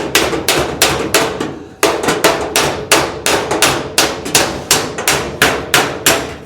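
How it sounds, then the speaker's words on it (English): Sharp hammer blows strike the metal body of a 1937 Zephyr in a fast, steady rhythm, about two per second, loud and close, with a brief pause after the first few hits. "I'm going to hammer that up just a little bit."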